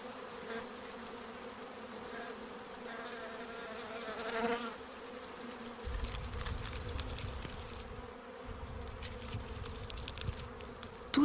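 A swarm of honeybees surrounding their queen settles near a hive, a soft, steady multi-layered buzzing hum that swells slightly in places, fairly faint and with no voices.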